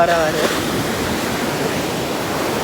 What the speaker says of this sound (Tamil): அப்படி இந்த அலை